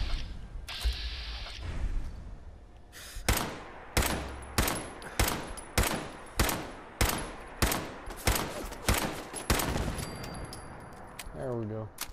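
Rapid volleys of .38-caliber gunfire from a Fallout 4 video game, a dozen loud evenly spaced shots crackling in quick succession with mechanical clicks near the end.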